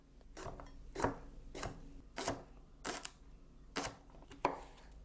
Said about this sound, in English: It says in the recipe that all of this has to be diced, so let's get chopping.